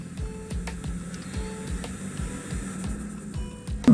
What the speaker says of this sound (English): It starts with the fan coming on.